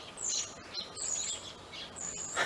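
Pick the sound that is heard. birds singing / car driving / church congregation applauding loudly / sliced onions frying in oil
birds singing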